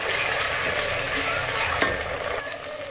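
Ginger garlic paste fries in a pan for chicken biryani, with a steady close sizzle and a few spoon scrapes and clinks against the pan. There is no talking.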